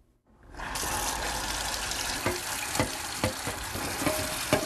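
Water runs from a tap in a home kitchen in Port Arthur as dishes are washed, a steady rushing stream with occasional clinks and knocks, close and even, without speech.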